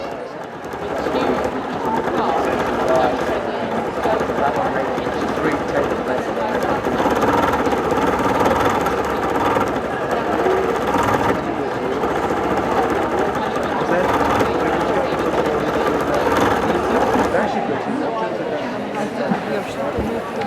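A sewing machine stitching during a quilting demonstration at a quilt festival runs in busy, continuous bursts, mixed with steady crowd chatter and voices throughout.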